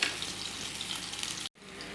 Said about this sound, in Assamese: মিঠাতেল গৰম হোৱাৰ পাছত ইয়াতে মই দি দিছোঁ এতিয়া পিঁয়াজ দি দিছোঁ